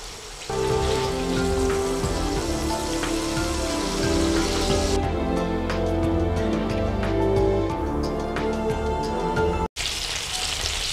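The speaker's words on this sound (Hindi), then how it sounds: "एक साइड से फ्राई हो जाएं तो पलट देंगे इनको और दूसरी साइड से फ्राई करेंगे।" Chapli kebabs fry in a pan with a dense, steady sizzle and crackle, close and unbroken apart from one brief cut near the end.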